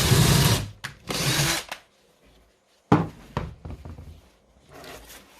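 Kimo impact driver sinking a wood screw into a pre-drilled hole in wood, short loud whirring bursts separated by pauses, then a fainter final run.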